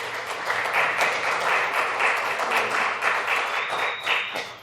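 People in the gallery at a regular council meeting applaud with sustained clapping that fills the room at an even volume for several seconds, then begins to fade.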